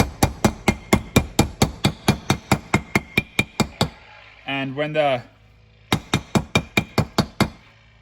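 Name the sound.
hammer tapping a seal into place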